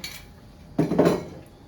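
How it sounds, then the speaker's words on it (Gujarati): A large spoon tips sugar into a blender jar while making mango mastani, one short clattering scrape and clink of metal on the container, close and loud against a quiet room. "હું અહીંયા ત્રણ ચમચી મોટી ખાંડ એડ કરું છું"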